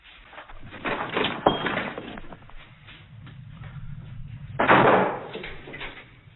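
A door slams with a sharp, loud bang partway through a domestic confrontation, standing out from quieter scuffling and rustling around it.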